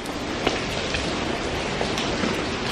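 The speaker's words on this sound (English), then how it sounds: "It is a torrential downpour." A torrential downpour in Los Angeles makes a dense, steady hiss of rain pattering on surfaces, fairly faint and unbroken, with no voices.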